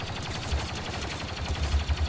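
Rapid blaster fire from a Star Wars Battlefront 2 match, with repeated close bursts of shots in an uneven rhythm and no talking.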